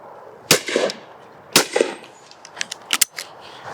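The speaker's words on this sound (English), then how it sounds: "the two guns shooting almost identically" A hand-built shotgun fires at a clay target: two sharp, loud reports about a second apart, each followed by a brief ringing tail, then several smaller clicks and clacks as the gun is handled.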